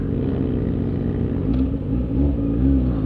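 Motorcycle engines rumble and rev close by at an international motorcyclists' meet, with throttle blips rising and falling over a continuous, loud engine drone.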